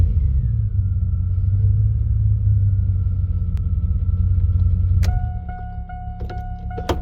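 1999–2006 Chevy Silverado pickup truck engine cranking and running in neutral, a loud low rumble close by that holds steady for about five seconds before dropping to a quieter idle with a few faint clicks.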